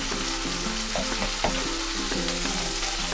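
Green peas frying in a pan for a restaurant-style veg jalfrezi, giving a steady close sizzle with soft scraping stirs and light clatter of a utensil throughout, no voices.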